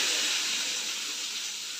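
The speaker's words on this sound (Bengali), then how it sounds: "এবার সব মশলা মাখিয়ে একবারে দিয়ে দিচ্ছি।" Spice-marinated prawns with coconut milk hit a hot wok with a loud, close burst of steamy hissing that eases slightly as it goes on, with no talking.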